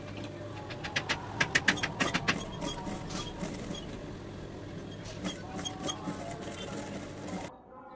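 A sewing machine stitches baby jumpsuit fabric in short bursts of rapid mechanical clattering, loud and close near the start and again later, over a steady low motor whir before cutting to silence.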